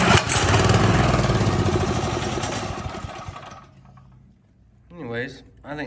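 A Predator 212 small engine with a gummed-up carburetor runs on choke, a loud rattling putter for several seconds that fades and dies out, after which someone speaks briefly.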